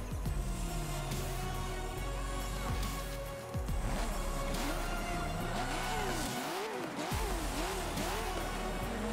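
Race car in the Forza Motorsport 7 video game pulling away from a standstill, its engine revving and rising through gears in repeated sweeping climbs, with a brief tire squeal, steady and close with no talk.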